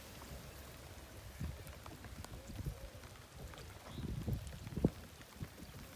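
Steady light monsoon rain falls around a small wooden country boat in a village, with a faint wash and scattered drop impacts that rise briefly near the end; no voices.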